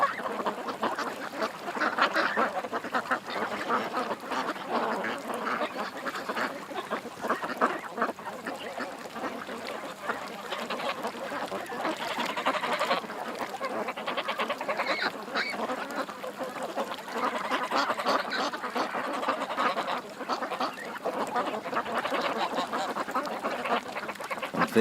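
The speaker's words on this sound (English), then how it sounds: "All the duckies are having fun" Ducks quacking and honking steadily throughout, a dense continuous flock chorus outdoors at moderate distance, with geese-like calls mixed in and no clear break.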